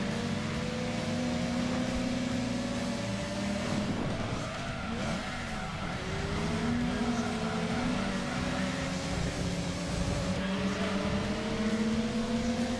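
A Corvette races in Gran Turismo 2, its engine wailing high and thin with steady revs and repeated gear-change dips and climbs, loud and continuous with some tire noise mixed in.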